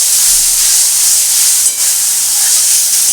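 Ginger garlic paste fries in a pan for an egg and potato curry, giving a loud, continuous hiss and sizzle throughout with a slight dip partway, with no voices.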